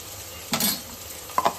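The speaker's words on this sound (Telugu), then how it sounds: "ఇంకా ఇప్పుడు ఇందులో అల్లం వెల్లిగడ్డ పేస్ట్ కూడా వేస్తున్నాం." Ginger garlic paste hitting hot oil with browned onions in a pan for thalakay curry: a brief sizzling burst as it goes in, then quieter sizzle and a couple of spoon scrapes while stirring, close and alone.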